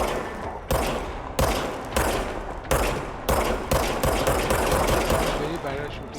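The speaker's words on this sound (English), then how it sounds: "now I have a gun" A gun fires in the video game Control, giving repeated sharp bursts of shots at a quick, uneven rhythm, loud and close, each burst separated by brief pauses, with no talking.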